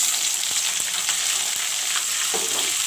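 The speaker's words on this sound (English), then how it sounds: "I will let the onions fry." Chopped onions, four big ones, fry with dry red chilies in a pan for chicken curry, giving a steady, close, hissing sizzle with a few faint clicks of stirring throughout.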